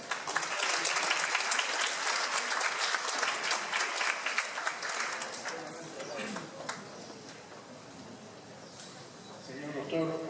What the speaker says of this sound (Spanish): Recibimos con un aplauso al rector de la UNCE